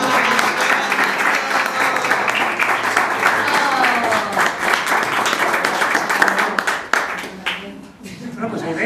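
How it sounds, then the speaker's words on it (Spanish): An audience at a Valencian falla project presentation for Falla Vidal de Canelles breaks into loud, sustained applause, with a voice speaking over the clapping before it tapers and briefly dips near the end. "Un aplauso."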